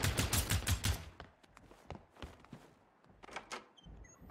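A firework thrown in the Generation Zero video game goes off in a rapid string of sharp crackling bangs, loud at first and then thinning into scattered pops and thuds.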